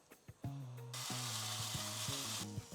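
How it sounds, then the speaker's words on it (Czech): A steak is laid into a hot frying pan and bursts into a loud, steady sizzle that holds for about a second and a half and then cuts off. Clanks of pan and utensils come just before and during it, with no voices. "A na rozpálenou pánvičku teda můžeme dát ten náš steak."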